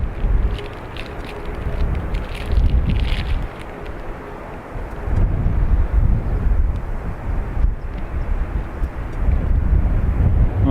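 A passenger airplane taxiing and parking at Dublin Airport, heard as a steady low engine rumble with a faint whine, rising and falling slightly, with wind buffeting the microphone throughout.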